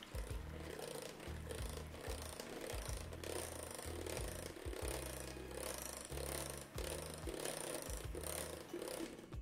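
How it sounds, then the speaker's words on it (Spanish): An electric hand mixer beating cheesecake batter at low speed, a close, low whirring motor drone with irregular dips and surges as the beaters churn, steady for about nine seconds with no talk. "batir bien a velocidad baja hasta que se combinen bien todos los ingredientes"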